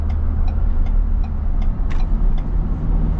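A turbocharged engine in a 2022 Ford Bronco with manual transmission, heard while driving: a steady, loud engine and road rumble that runs unbroken throughout, with no one talking.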